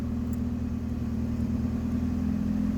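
A car engine idling steadily on propane after a switch over from gasoline, a continuous low hum with a strong steady drone, close and alone with no talk.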